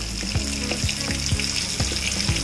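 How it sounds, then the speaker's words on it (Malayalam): Fish fries in a hot pan over a medium-then-low flame, giving a loud continuous sizzle with soft regular bumps repeating about every third of a second and no voices. "ആദ്യം മീഡിയം ഫ്ലെയിമിലും പിന്നീട് ലോ ഫ്ലെയിമിലും വെച്ച് വേണം ഫ്രൈ ചെയ്യാൻ"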